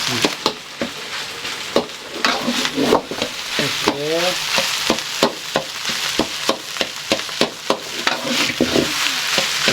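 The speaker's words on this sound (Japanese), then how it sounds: "ニンニク入れて、卵、油入れて、ご飯を入れて、鍋を温めてる" Loud sizzling stir-fry of rice with egg, garlic and sliced chashu pork, with repeated scraping and clanking of a spatula in a wok, rhythmic tossing over constant frying hiss.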